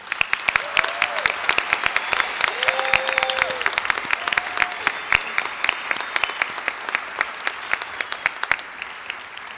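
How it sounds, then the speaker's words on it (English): A crowd applauds graduates at a university nursing pinning ceremony, sharp individual claps blending into steady continuous clapping, with a few faint voices calling out underneath. "Let's give our graduates one more round of applause."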